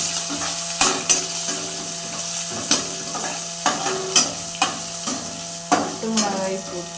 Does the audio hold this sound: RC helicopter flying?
no